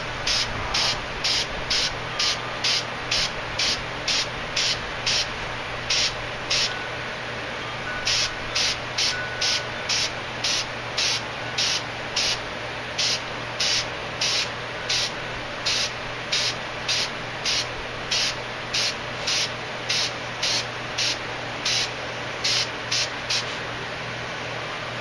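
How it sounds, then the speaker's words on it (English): Spray can laying a light coat of lacquer onto a strop in short, regular hissing bursts, repeated steadily and close by, with brief pauses between passes. "So we'll just go ahead and spray a light coat all the way around it,"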